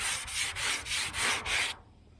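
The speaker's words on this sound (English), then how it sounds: "now we're just going to go over it with a block" Rhythmic back-and-forth sanding of body filler with a hand block on the roof of a 1977 Chevrolet Malibu Classic, six close, even rasping strokes before the sound stops.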